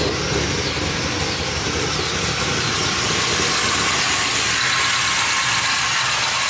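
A car with a newly fitted Hooker Blackheart exhaust idles close by, giving a loud, steady rumble under a broad hiss that holds even throughout without revs or talking.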